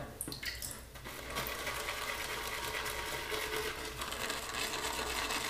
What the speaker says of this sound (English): let's add a bit more water to that.